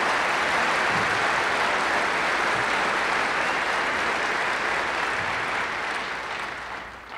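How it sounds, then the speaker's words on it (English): A lecture audience applauds in a sustained burst of dense clapping that holds steady for several seconds before thinning and fading toward the end, with no talking. "give all of them a round of applause"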